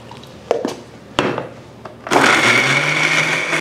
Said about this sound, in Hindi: यहाँ पे ये हमारे पास जूसर पड़ा हुआ है, इसको इसके अंदर शामिल करेंगे